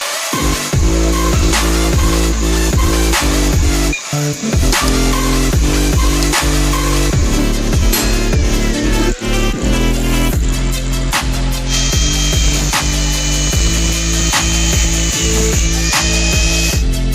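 Power tool grinding through a bicycle chain sprocket to make a C-clamp, a loud continuous metal-cutting whine with scattered sharp clicks and knocks, steady throughout and close up with no talking.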